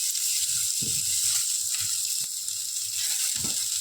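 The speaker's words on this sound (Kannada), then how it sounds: "ನೋಡಿ, ಈ ಥರ ಹುರಿಬೇಕು ನೀವು." Ingredients for a grandmother-style chicken curry fry in a pan with a steady bright sizzle, punctuated by soft scraping stirs and light knocks, close and alone without talk.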